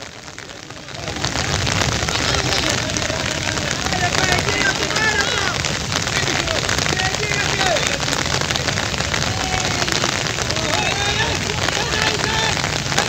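Heavy rain pours steadily over an office-league football match between Food Corporation of India and Metro Railway in West Bengal, a dense, continuous hiss that swells after the first second, with faint voices and crowd noise underneath.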